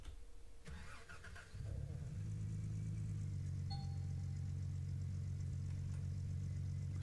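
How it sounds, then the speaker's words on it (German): A vehicle engine in Gold Rush: The Game cranks briefly, catches and settles into a steady, deep idling rumble, with a clunk before the start and a faint high tone later. "dann sollen wir bestimmt den Motor anmachen"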